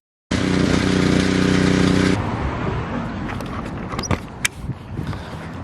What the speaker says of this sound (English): The pressure washer accidentally cut it.